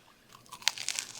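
Crisp crunching bites into a Flamin' Hot Cheetos–coated cheese corn dog, a few sharp crunches close up, growing louder toward the end with no talking.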